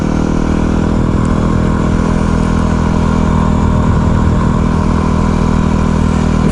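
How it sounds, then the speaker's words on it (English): A Yamaha WR250R motorcycle is ridden on a beach, its engine buzzing and revving steadily and loudly close by for several seconds, with no one talking. "As you can see, you can really fling this bike around."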